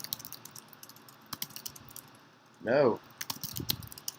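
Test blog post typed on a computer keyboard: sparse, irregular key clicks scattered across a few seconds, interrupted by one brief spoken word.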